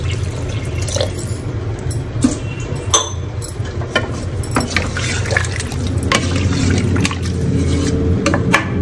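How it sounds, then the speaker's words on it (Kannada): Water poured from a cup into a pot of rice for biryani, with splashing and pouring plus occasional clinks of the vessel, close and moderately loud. "ನಾವು 2 ಲೋಟ ಅಕ್ಕಿ ತಗೊಂಡಿದ್ರೆ 4 ಲೋಟ ನೀರು ಹಾಕ್ತಾ ಇದೀವಿ"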